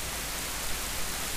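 Steady rain from the video game Ocarina of Time, falling over Kakariko Village as a dense, even hiss that holds at one level throughout the short stretch, with no voices over it.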